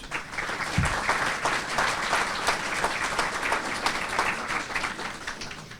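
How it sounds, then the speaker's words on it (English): Sustained applause from an audience at a sports hall of fame induction ceremony, honouring award winners; a dense, steady wash of many clapping hands at even loudness, with no talk over it. "So I think a round of applause for all the Founders Award winners."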